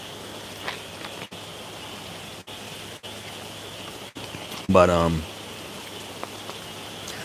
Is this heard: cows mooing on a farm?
no